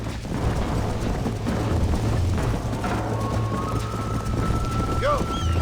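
A horse gallops in the Western video game Red Dead Redemption, steady rapid hoofbeats with a whinny near the end, under excited shouting voices and game sound.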